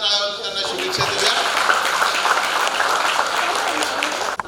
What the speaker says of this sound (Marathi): सगळ्यांच्या वतीने आपण जोरदार टाळ्या वाजवून त्यांना शुभेच्छा देऊया.